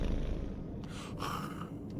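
A cat purrs in Marvel's Midnight Suns, a low continuous rumble that holds steady and close for about two seconds, with faint game ambience behind it.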